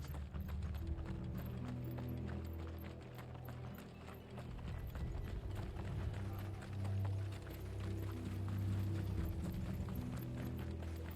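Horses' hooves clip-clop in Final Fantasy 16, a steady, fairly close clatter of hoofbeats that continues throughout over a low rumble and faint mechanical rattling.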